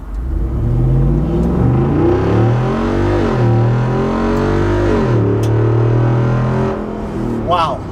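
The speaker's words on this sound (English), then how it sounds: "the sound this vehicle makes is, I mean, this thing sounds like a muscle car" 2024 Jeep Wrangler Rubicon 392 V8 with performance exhaust accelerating hard on an open stretch, a loud, deep, steady roar climbing through several gear changes, heard close with no talk over it.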